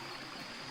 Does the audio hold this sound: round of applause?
no